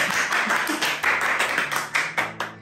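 Rhythmic hand claps ring out in a home kitchen during cake making, a close, steady run of sharp claps at an even beat.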